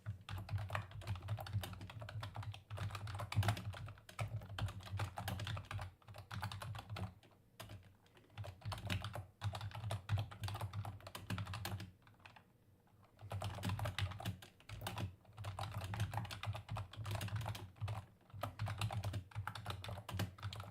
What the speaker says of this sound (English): I've just got a loud keyboard.